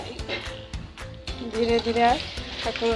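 Sago masala vadas fry in oil over a low flame, a steady close sizzle with bubbling crackle running throughout, punctuated by several sharp clicks and scrapes of a utensil against the pan.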